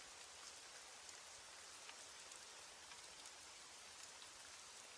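Steady rain falls at night, a soft, even hiss of drops with no breaks, distant and unchanging.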